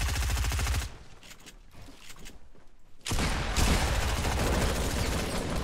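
Fortnite gunfire, with dense rapid bursts at the start, a quieter stretch of scattered shots, then a loud sustained volley in the second half.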